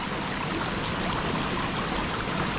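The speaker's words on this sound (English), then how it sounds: "there's this incredible waterfall I just noticed" A small waterfall on a stone-edged Scottish burn gives a steady, dense rush of falling water, close and continuous without a break.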